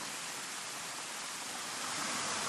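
River water pouring steadily through a hole in a sluice gate, a dense, even hiss of rushing water that swells slightly near the end, with no voices.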